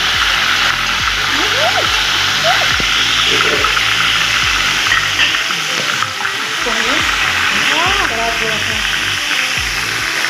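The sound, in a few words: garlic ginger paste frying in oil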